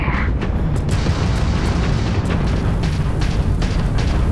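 Heavy weapon fire and booming explosions in the Starfield video game, loud and dense, with rumbling blasts overlapping rapid impact bursts throughout, played close and without pause.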